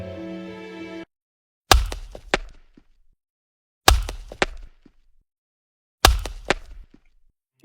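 A woodcutter's axe chops into wood three times, each stroke a sharp loud thwack followed by a few smaller knocks and rattles, spaced about two seconds apart after a short sustained tone.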